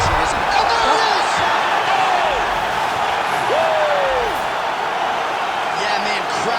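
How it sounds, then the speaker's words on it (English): Crowd roars and whoops from spectators in UFC 5 as Sean Strickland and Khamzat Chimaev's fight ends, a dense, sustained cheer with rising and falling shouts throughout. "crowd loving it"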